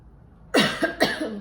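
A close, harsh cough in two or three quick bursts after a moment of near silence.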